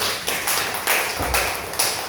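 Scattered clapping from a seated audience after a school presentation at a special-needs school staff meeting, a few separate sharp hand claps standing out over a faint room hum with no talking.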